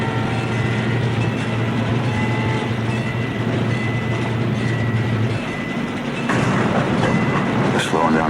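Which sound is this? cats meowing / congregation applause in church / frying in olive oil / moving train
moving train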